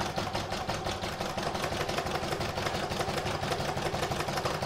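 A sewing machine runs steadily, stitching down a piece of fabric on a crazy patch Christmas stocking, its motor whirring with a fast, even mechanical chatter throughout, close and continuous with no talking.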